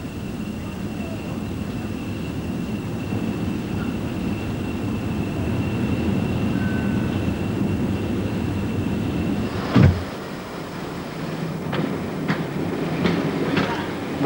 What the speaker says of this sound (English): And on Barry Smith's journey, Exeter Central was the place for finding yet another train